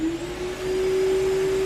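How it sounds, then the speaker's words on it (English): A central vacuum cleaner runs through its wall-mounted hose handle, giving a steady, loud motor whine with a constant tone that holds evenly throughout. "Turning it the other way should just turn on the vacuum."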